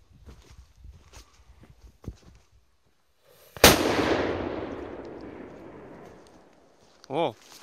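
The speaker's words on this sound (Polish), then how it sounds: "po flarze szybko wybuchła. W miarę głośna." An Explode D4 firecracker goes off in grass with one sharp, loud bang close by, followed by a long fading rumble. Quiet scattered sounds come before it, and a brief voice-like sound follows.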